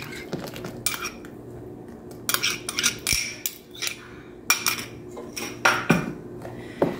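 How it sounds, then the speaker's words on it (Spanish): Liquid soap being mixed with water, a spoon or paddle knocking and scraping against a container in irregular bursts of clinks and scrapes, close and fairly loud, with no talking. "Vamos a revolver muy bien."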